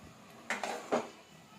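Spoon scrapes and clinks against a metal pan while paneer, baby corn and curry are mixed, a short burst of soft metallic scraping in a quiet kitchen.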